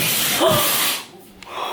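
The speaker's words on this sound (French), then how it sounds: "avant de poncer, parce que ça fait du grave du bruit" Rough, hissing sanding noise for about a second, then it cuts off and leaves a quieter pause with a faint scrape.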